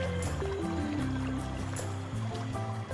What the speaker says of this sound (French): Rapides et cataractes sont fréquents en Guyane.